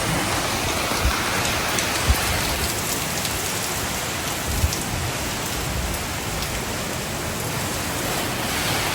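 Heavy rain pours steadily during Hurricane Milton, a loud, dense, continuous downpour with no break, with no one speaking.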